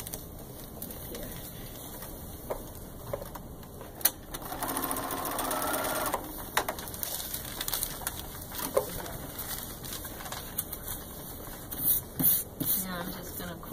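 A sewing machine restitches a short section of basted quilt fabric in a steady burst of needle chatter lasting about two seconds, close by, with quiet handling noises and light talk around it.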